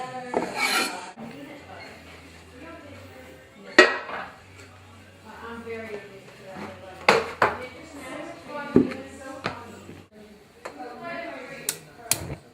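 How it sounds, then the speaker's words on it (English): A knife cuts tasso into small chunks, giving soft rasping strokes broken by sharp knocks on the board, with a few louder clacks spaced irregularly across the stretch. "Now we're going to cut our tasso into little bitty chunks like this."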